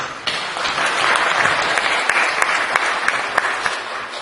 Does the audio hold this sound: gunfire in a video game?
no